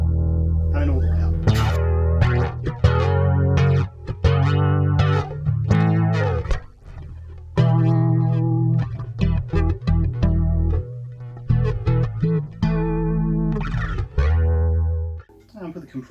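Electric bass notes from a Donner Alpha bass pulse with a wavering, choppy tremolo, played in short phrases with brief gaps, close and fairly loud.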